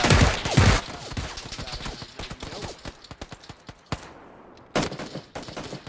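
Rapid bursts of gunfire from a shooting video game, loud and close, with dense volleys early on, scattered single shots through the middle, a brief lull, then another sharp burst near the end.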